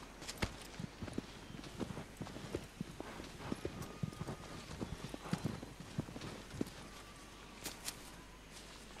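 Horse hooves clip-clop steadily through Shadow of the Colossus, a continuous run of crisp uneven hoofbeats at moderate distance over a low game-world hum.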